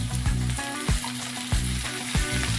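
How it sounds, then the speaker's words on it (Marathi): Hot oil sizzling steadily in a pan for tempering urad dal, a continuous crackling fry with a few soft knocks or stirs, close and fairly loud, with no talking. "आपण त्याला तर थोडं तेल टाकू आपण फोडणीसाठी"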